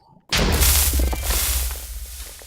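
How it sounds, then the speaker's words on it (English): A sudden booming explosion in Minecraft, a sharp onset followed by a rumbling decay over a couple of seconds, fairly close and loud. "bit of an explosion over there."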